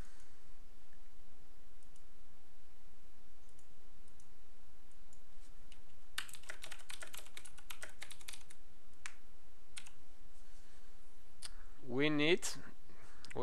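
Keys tapped on a computer keyboard, with soft, irregular clicking and a denser burst of keystrokes midway, all fairly quiet over a low background hum.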